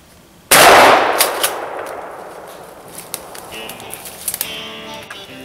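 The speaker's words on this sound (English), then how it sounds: "It's a Benelli Nova. I got a dove load, so I had to shoot it twice." A single loud, close shotgun blast from a Benelli Nova pump shotgun loaded with dove shot, fired while squirrel hunting in snowy woods, trails off into a long decaying echo, with faint clicks and movement following.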